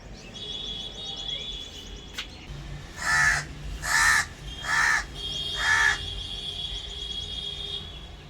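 A crow perched at a window caws four times in a row, loud and harsh, with short pauses between calls over a faint outdoor background.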